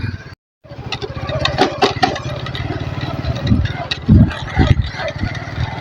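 A motorcycle engine kicks over after a brief silence, then runs with a steady rough idle, punctuated by a few louder revs, nearby and over background voices and household clatter.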